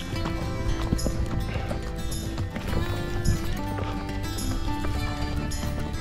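Hooves of mules on a desert trail clop in a steady, busy rhythm, close and continuous over a noisy outdoor background.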